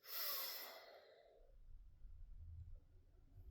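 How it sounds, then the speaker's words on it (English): A slow, audible breath drawn in during box-breathing meditation, a soft airy rush at the start that fades after about a second, followed by quiet low rumble; no talking. "I generally do what's called box breathing. So I go in for 4 seconds"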